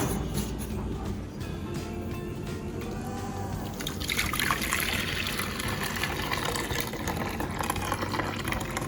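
Coconut milk pours and trickles into a bowl of wet ingredients for a cornmeal pudding, a steady liquid stream that grows fuller and splashier midway, with kitchen background noise and no talking.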